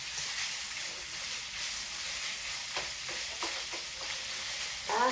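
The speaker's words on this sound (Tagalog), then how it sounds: "gisa-gisa lang po natin yung beef" Beef sautéing in a hot pan for bitter melon stir-fry, a steady loud sizzle with occasional stirring scrapes and spatula clicks, no voices.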